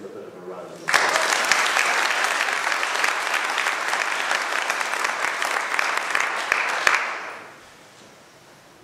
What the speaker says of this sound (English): Let's give them a bit of a round of applause.